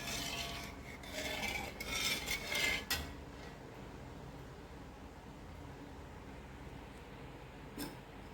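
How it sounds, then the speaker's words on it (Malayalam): Sugar being stirred into beetroot halwa, with a busy scraping, rasping burst of spoon-on-pan sounds in the first few seconds, then a quieter steady background and one brief scrape near the end. "പഞ്ചസാര ആഡ് ചെയ്തിട്ട് നല്ലോണം മിക്സ് ചെയ്യാം"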